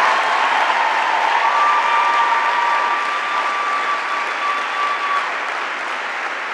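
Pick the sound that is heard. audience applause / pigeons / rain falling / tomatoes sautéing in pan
audience applause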